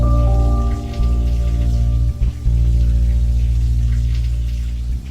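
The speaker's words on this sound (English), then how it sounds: "You could hear the water from the ceiling" Steady, heavy rush of water falling through a ceiling and splashing, like a downpour indoors, continuous and close with a low constant roar.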